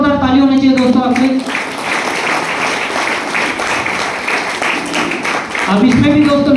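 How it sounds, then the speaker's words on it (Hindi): A seminar audience breaks into loud clapping at a direct-selling business talk, a steady burst of applause lasting a few seconds between stretches of someone speaking through a microphone. "तो एक बार जोरदार ताली होनी चाहिए दोस्तों आपके"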